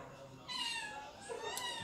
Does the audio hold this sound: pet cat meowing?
yes